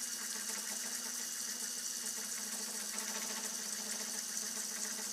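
A Taig lathe motor, used while building a threading accessory, runs steadily with a faint, even high whine and a light buzzing hum, constant in level and heard alone without speech.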